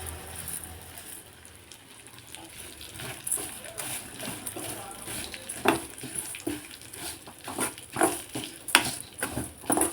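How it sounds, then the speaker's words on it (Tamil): Red flattened rice (poha) dry-roasting in a pan, stirred with irregular scraping and rattling grains that grow busier and louder toward the end, set against a steady background hiss. "இப்போ இந்த கப் அளவுக்கு செவப்பவல் எடுத்திருக்கேன் இப்படி வறுத்துடலாம்"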